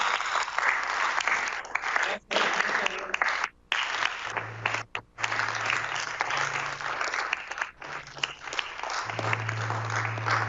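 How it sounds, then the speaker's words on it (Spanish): Church congregation applauding together in a sustained, dense burst of clapping with brief breaks, while a low hum or sustained tone runs underneath in the second half. "Denle un aplauso al Señor."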